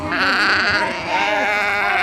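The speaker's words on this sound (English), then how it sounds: "Good pair of sheep to start us off." Sheep bleat loudly and close at a county fair breeding and market lamb show, wavering cries running almost continuously with overlapping calls from several animals.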